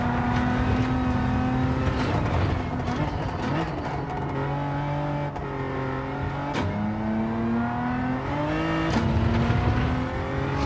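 A Honda race car engine in Gran Turismo 7 drones loudly and steadily, rising and falling in pitch through upshifts, lifts and hard acceleration, with a few abrupt revving swells across the lap.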